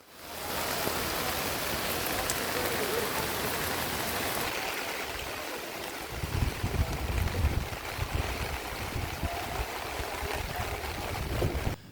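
Heavy monsoon rain pours steadily over the Malnad hills near Sringeri, a dense, constant hiss throughout, deepening into a heavier rumble of water over the second half.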